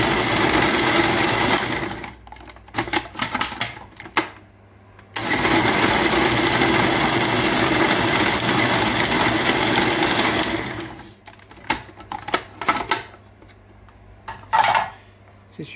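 Electric chopper mincing chicken offal and onion for a gratin, running in loud continuous whirring bursts broken by short pauses and clunks, close up with no talking.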